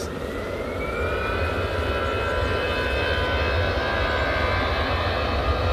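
An EasyJet jet airliner taxis at Manchester Airport, a steady loud engine drone with a thin whine layered above it, constant throughout.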